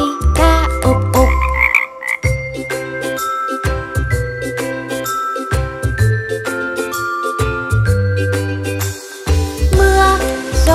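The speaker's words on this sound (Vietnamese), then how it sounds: "Chú ếch tuyệt đi bơi rồi, chú ếch vui ca ục ục." Cartoonish frog croaks sound in a bright children's song, repeated in a bouncy rhythm over jingling, tinkling music and a steady beat, loud and upfront with no spoken voices.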